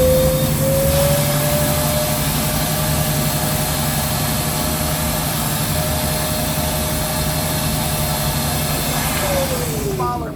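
A wet vacuum drones steadily while pulling rainwater out of the bilge of a 65-foot Hatteras yacht, a continuous loud motor hum with a steady whine that rises in pitch near the end.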